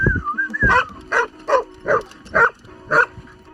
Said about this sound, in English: dogs kept following us